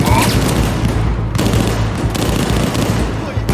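Automatic weapon fire in Battlefield 4 during a Shanghai mission, rapid bursts of loud shots with booming impacts, continuous and close throughout.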